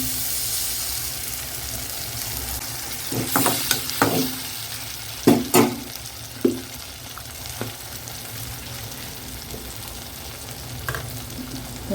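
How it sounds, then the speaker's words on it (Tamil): Sliced onions sautéing with a ground spice paste in a pan for mushroom gravy, a steady soft sizzle broken by a few sharp stirring clatters midway. "வெங்காயம் நல்லா வதங்கிடுச்சு இப்போ நம்ம அரைச்சி வச்சுருக்கோம்ல அந்த பேஸ்ட்டு அதில் போட்டுக்கலாம்"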